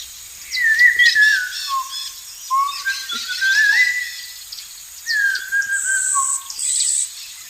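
A loud, clear whistled melody imitates birdsong in short swooping phrases separated by brief pauses.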